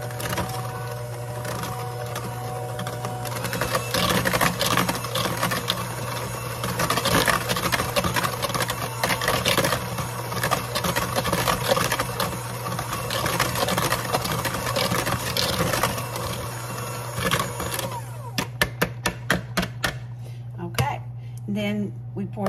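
An electric mixer whirs steadily while beating buttermilk pie filling, a close, constant motor hum with rattling that runs for most of the time, then cuts off into a few sharp clicks near the end.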